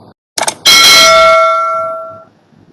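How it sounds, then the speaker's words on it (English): A single bell strike rings out sharply after a couple of short taps, its bright metallic tone sustaining and slowly fading over about two seconds, marking the end of a timed presentation round. "So this would be the first round, the bell sound. That indicates 5 minutes up."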